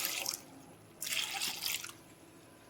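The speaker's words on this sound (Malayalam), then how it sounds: "അതിനുശേഷം ഇതിന് ആവശ്യമായ വെള്ളം കൂടി നമ്മൾ ചേർത്ത് കൊടുക്കുകയാണ്." Water poured into a pot holding soaked beans and pumpkin pieces for a Kerala home-style dish, a soft splashing pour in two short bursts with a quiet gap between, close and fairly faint, no talking.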